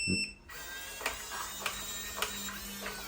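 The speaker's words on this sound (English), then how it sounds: "Made a beeping noise. It made a few clicks." A Hyper Tough digital deadbolt lock, just fitted with batteries, sounds a steady electronic tone with a few evenly spaced short clicks, close up and fairly quiet.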